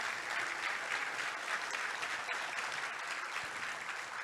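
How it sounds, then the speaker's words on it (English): An audience at a charity transparency and governance awards ceremony applauds in a steady, even wash of many hands clapping, heard from a moderate distance and continuous throughout. "Delighted to hear your applause"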